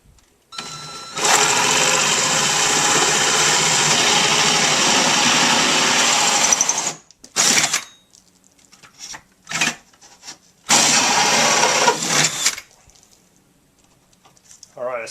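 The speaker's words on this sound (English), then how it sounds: "I have to use the electric drill by hand and try to get this thing mostly level" A handheld electric drill with a hole saw whines steadily for several seconds boring into a fiberglass and foam pontoon boat bench seat, stops, then runs in a few shorter bursts with quiet gaps between.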